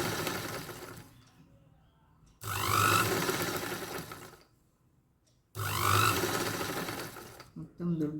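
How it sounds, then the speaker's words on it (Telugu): Domestic sewing machine stitching a beaded work blouse, running in two loud bursts of rapid whirring separated by quiet pauses, with faint talk in the gaps. "జాగ్రత్తగా కుట్టాలి. వర్క్ బ్లౌజ్ కుట్టే విధానం."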